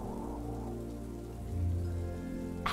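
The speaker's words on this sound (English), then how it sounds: "you listen as rain starts to fall" Rain falls in a soft, steady hiss under a low, continuous background hum, with a brief brighter burst near the end.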